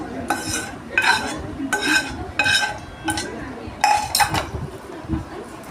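Rice for Kashmiri aloo dum pulao is mixed around a pot with a metal spoon, giving a run of scraping stirs and clinks against the pot in uneven bursts, close by.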